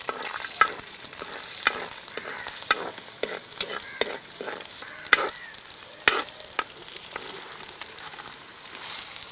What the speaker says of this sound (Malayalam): ഇപ്പൊ സവാള വഴണ്ടി വരുന്ന സമയം കൊണ്ട് നമുക്ക് നെത്തോലി വറുത്തെടുക്കാം